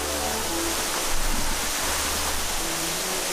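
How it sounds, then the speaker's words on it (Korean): A waterfall plunges into a pool in the desert near Bethlehem, Israel, giving a dense, steady, broadband roar that stays close and loud with no voices. "저를 이끈 소리의 정체는 시원하게 떨어지는 폭포수"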